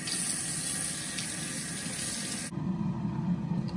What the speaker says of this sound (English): now I'm about to rinse me a leaf of lettuce.